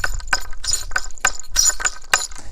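A ring's sharp metallic taps strike a hard wooden staff in a quick, uneven rhythm, about seven distinct clicks, close and fairly loud with no voices.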